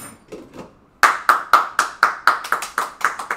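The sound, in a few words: applause, hands clapping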